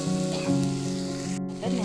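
Chopped tomato frying in a hot pan for a Telugu-style amaranth leaf (thotakura) dish, giving a steady, close sizzle with a soft clink near the end.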